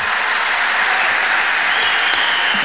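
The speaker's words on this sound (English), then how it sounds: "Clap for Jesus." A congregation at a church service claps together in sustained, dense applause that holds steady and loud throughout, with no voices standing out.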